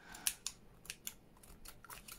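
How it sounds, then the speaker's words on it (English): Worn, dull scissors snip through lace in a series of quick, crisp cuts, each a sharp close-up click, with the cuts spaced irregularly over a couple of seconds. "Oh, those scissors are atrocious."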